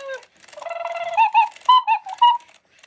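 An interactive Spin Master Wizarding World Hedwig snowy owl toy runs its demo mode, giving a short series of bright, electronic hoots and chirps in quick clustered bursts, close and fairly loud, with no talking.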